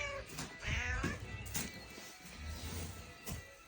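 A cat meows repeatedly on a winter pig farm, with several drawn-out calls close by over a background of farmyard noise and faint knocks.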